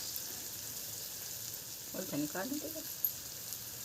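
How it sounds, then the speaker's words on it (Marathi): Onion frying in a pan gives a faint, steady sizzle, with a brief voice heard partway through. "भाजू द्या बघ दोन मिनटं कांदा चांगला"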